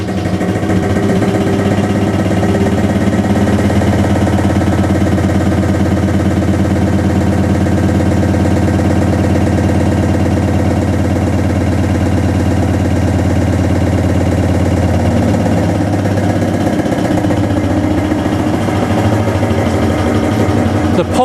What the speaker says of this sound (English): The pump will continue to run because it has an inbuilt accumulator.